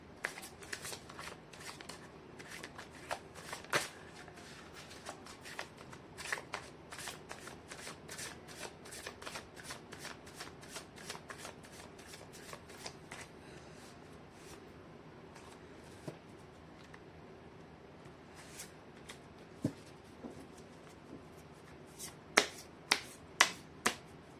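Tarot cards being shuffled by hand during a reading, a long run of crisp, rapid riffles and flicks that pause briefly and resume, close and fairly quiet, with a few sharper card snaps near the end and no voices.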